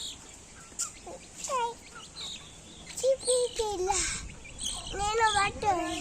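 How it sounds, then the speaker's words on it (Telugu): Chickens cluck and chicks peep in short bursts close by, mixed with a child's excited chatter and squeals. "చెర్రీ రాగానే చూడండి ఎలా ఆడుతున్నాడో కోడి పిల్లలతో"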